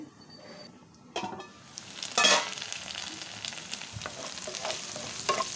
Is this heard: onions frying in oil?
yes